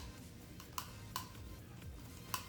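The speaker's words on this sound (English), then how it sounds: "what that noise is it's this metal piece right here smacking into this part of the" Faint, sharp clicks of a metal piece on Status Audio CB-1 headphones tapping their plastic, a handful spaced irregularly over a quiet background.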